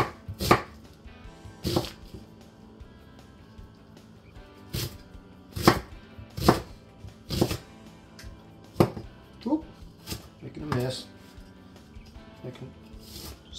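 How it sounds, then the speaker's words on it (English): A knife chops a medium-sized onion into small pieces on a board, sharp irregular thuds spaced about a second apart, close and distinct against a quiet room, with brief faint voice sounds in between. "This is a medium-sized onion. I'm just going to cut it up in"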